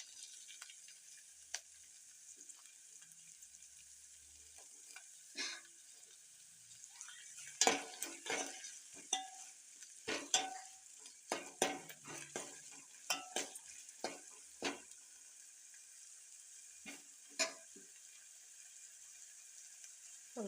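Potato curry with freshly added tomato stirred and frying in a pan, a steady sizzle with repeated scraping clicks of a spoon against the pan in irregular bursts, close and fairly quiet.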